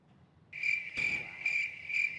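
A cricket-chirping sound effect: a shrill, steady trill that begins about half a second in and pulses in even surges, loud and alone over a quiet background.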